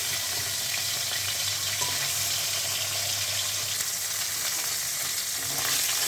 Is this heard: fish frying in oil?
yes